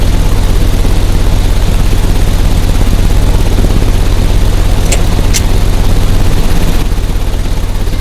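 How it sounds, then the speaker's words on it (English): Steady low engine drone in Sherlock Holmes: Crimes and Punishments, a continuous heavy mechanical rumble that runs loud and even throughout, with two brief high clicks near the middle and a slight drop in level toward the end. "The engine has started."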